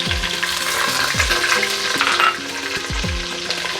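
Chopped onions and potatoes fry in oil for mutton rezala, making a steady close sizzle. Several distinct spatula strokes stir and scrape the pan, with a faint musical tone in the background.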